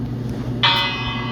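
A bell struck once in Minecraft, a bright ringing clang that starts sharply and rings on steadily over a low game hum.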